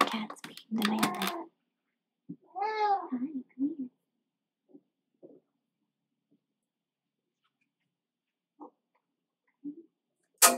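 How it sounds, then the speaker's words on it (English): A house cat meows a few times close by, the calls short and rising, mixed with a person's speech at the start and then sparse faint sounds across long quiet gaps. "My cat's being demanding."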